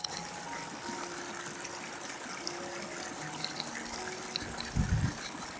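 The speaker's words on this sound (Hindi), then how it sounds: "ये झरने का पानी वगैरह, इसका आवाज़" Waterfall water rushing steadily in the Valley of Flowers, Uttarakhand, a broad continuous wash of flowing water at moderate level with a brief louder gush near the end.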